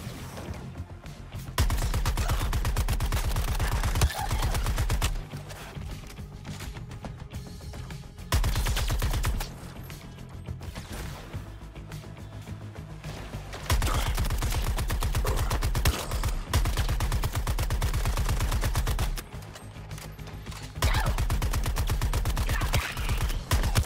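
Gunfire from the Suicide Squad video game comes in long, loud sustained bursts of rapid shots, separated by brief quieter gaps. There is no talking.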